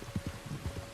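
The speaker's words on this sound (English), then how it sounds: "You were right about the damn rain" Rain in the video game Red Dead Redemption 2 falls as a faint, steady patter with soft irregular drops, alone and without voices.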